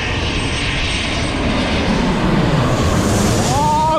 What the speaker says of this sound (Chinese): 我给你们拍一下飞机飞过头顶的感觉啊